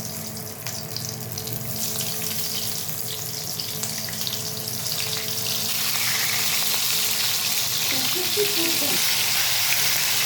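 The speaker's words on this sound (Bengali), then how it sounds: "পুর ভরা পটল এখানে ছাঁকা তেলে ভাজা হচ্ছে" Pointed gourds stuffed with prawn filling deep-fry in a pan of oil. A steady, close sizzle gradually builds to a fuller, brighter hiss partway through and holds there, with brief clinks near the end and no talking.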